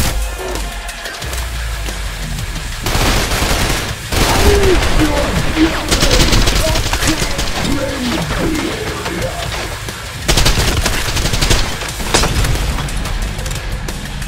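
Heavy enemy gunfire rattles through a tense Trepang2 firefight, dense bursts and booms filling the whole stretch, loud and close, with a voice talking over parts of it.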